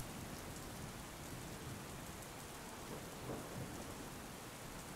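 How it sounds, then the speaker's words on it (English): Steady heavy rain falls with rumbling thunder in a thunderstorm, a continuous dense hiss at a low, even level throughout with no voices. "I hope you enjoyed the rain sounds"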